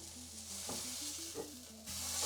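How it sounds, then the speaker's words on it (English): Steak sizzles in an air fryer as it is flipped, a soft steady hiss and crackle with a few faint scraping knocks, quiet and close. "I'm actually going to give it a flip because I can hear it and I can smell it and it sounds pretty good."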